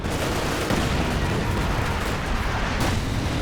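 Mortar fire in the World War II strategy game Company of Heroes 2 during a large 4v4 battle: a dense, continuous roar of explosions and rumbling blasts that stays loud throughout, with no talking.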